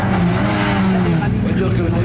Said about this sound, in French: c'est parti pour Benoît Biard, le pilote de la Clio. Ça va vite.